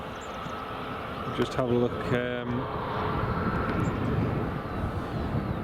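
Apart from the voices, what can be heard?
Challenger private jet coming in to land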